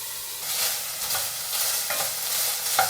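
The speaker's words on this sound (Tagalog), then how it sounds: "Lulutuin lang natin yung beef hanggang sa makita natin yung toasted brown na color" Beef cubes fry in a hot pan until browned, with a steady hiss and sizzle and occasional scraping stirs, with no talking.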